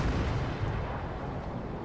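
Tank cannon fire in the video game Armored Warfare, a heavy booming blast with a rumbling low-end tail that fills the short span at a steady loud level, no talking.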